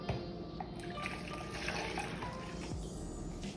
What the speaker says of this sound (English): get you a cup of warm water, 1 1/2 cup